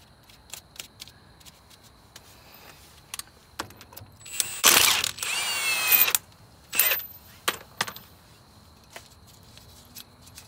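A cordless impact wrench drawing new wheel studs into a hub using three washers as spacers, heard as a few short bursts and one longer loud whir amid light tool clatter, with no talking.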